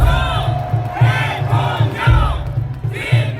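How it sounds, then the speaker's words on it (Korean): A large crowd at a presidential campaign rally in Seoul's City Hall Plaza roars in loud, rhythmic chanting bursts, each shout swelling and falling in a steady repeating pattern. "여러분 큰 박수와 함성으로 맞아주시면 고맙겠습니다."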